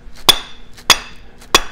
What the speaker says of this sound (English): So a dead blow hammer, you can hit something and not mark it.